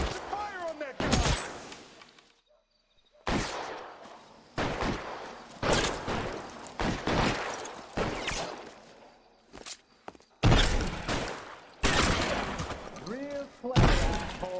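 Repeated bursts of gunfire erupt in a shootout in the video game L.A. Noire, loud close shots in rapid clusters separated by brief pauses, with voices shouting between volleys.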